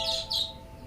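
Small birds give two quick, bright chirps close by in a Ming-dynasty palace drama, with a faint steady tone beneath them and no talking.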